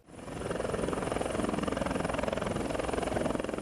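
A helicopter carrying Nigeria's Vice President lands at the Dangote industrial area in the Lekki Free Trade Zone, Lagos, its loud, steady rotor thump beating rapidly and evenly from close by.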